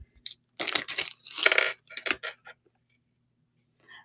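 A metal chain statement necklace is handled up close, its chains jingling and clinking in several quick bursts over about two and a half seconds before it falls mostly quiet.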